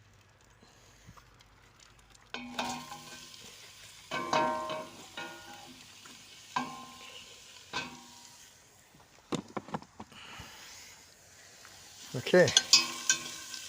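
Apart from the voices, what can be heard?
onions frying in a pan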